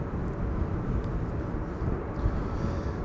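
A KLM Airbus A321neo arriving at Amsterdam Schiphol on a windy day gives a steady, distant low jet roar with gusty rumble and no voices.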